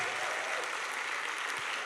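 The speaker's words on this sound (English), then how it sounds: "Give them a giant round of applause." A crowd claps continuously in a dense, even wash of applause, steady and moderately loud throughout.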